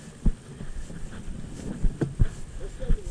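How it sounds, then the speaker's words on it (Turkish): Wind blows outdoors on a rural Anatolian road, buffeting the microphone in gusts with low rumbling thumps, and a faint voice comes in briefly. "Oh, ne güzel esiyor bugün."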